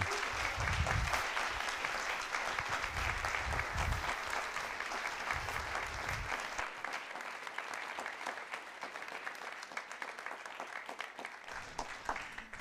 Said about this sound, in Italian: Facciamo un grande applauso a Filippo Giorgi.